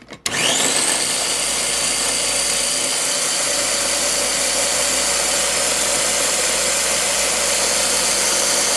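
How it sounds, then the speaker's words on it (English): A mini Ninja blender runs continuously at high speed, mixing a thick cacao drink with berries: a loud, steady whirring motor that starts abruptly and holds constant to the end, with no talking. "I have this mini Ninja blender here."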